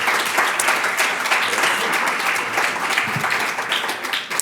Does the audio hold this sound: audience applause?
yes